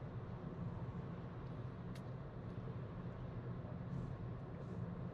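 A BYD Atto 1 Seagull electric car cruising on a freeway in Shanghai, heard from inside as a faint, steady broadband road and tyre rumble with no voices.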